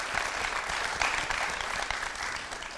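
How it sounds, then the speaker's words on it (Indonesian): An audience at a leadership event in Indonesia applauds Pak Akbar with steady, dense clapping that holds at an even level from start to finish, with no talking over it. "Tepuk tangan buat Pak Akbar"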